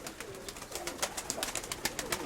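Pigeons coo in a loft amid repeated sharp clicking and rustling noises, the low soft calls fairly close and partly masked by the busy clatter.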